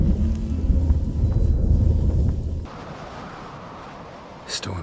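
Storm in The Witcher 3: Wild Hunt, heavy rolling thunder rumbling loud and low for a few seconds before cutting off to a softer rain-like hiss, with a brief sharp crack near the end.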